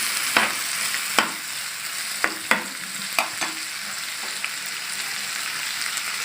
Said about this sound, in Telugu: సో నేను దీంట్లో అల్లం వెల్లుల్లి పేస్ట్ వేస్తున్నాను.